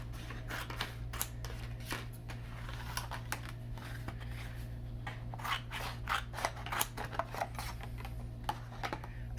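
Scissors cutting a piece of cardstock for a handmade card, steady close snips and crisp blade clicks repeating throughout over a low steady hum.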